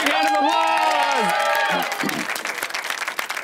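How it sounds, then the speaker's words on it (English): A party crowd cheers and whoops, a loud surge of voices that gives way to scattered clapping and lingering shouts. "Everybody give him a big hand of applause!"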